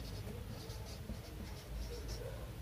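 Chalk or a marker taps and scratches a number onto a board during a maths lesson on decimals, a quick series of short close strokes with a faint background hum.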